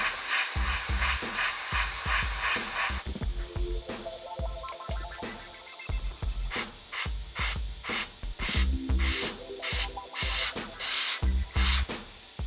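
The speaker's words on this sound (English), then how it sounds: "We're going to mix a bit of our favourite one, the rusted umber, with a little bit of burned stains" Lifecolor rusted umber and burned stains paints being stirred and mixed, a steady series of close scraping, clicking strokes with brief pauses, loud and alone.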